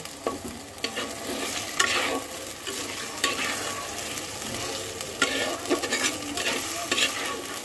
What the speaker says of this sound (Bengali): তো চলো সব কিছু একসাথে সুন্দর করে ভেজে নেই।